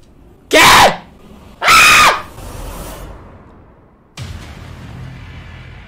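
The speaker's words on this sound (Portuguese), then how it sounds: "eu dei esse gritinho agudo aqui pra fazer um humor" Two loud, high-pitched shrieks from a person, each about half a second long and a second apart, followed by a quieter scrape and some background noise.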